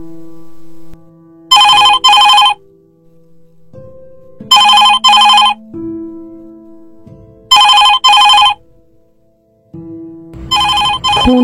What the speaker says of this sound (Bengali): ফোনটা বেজে যাচ্ছে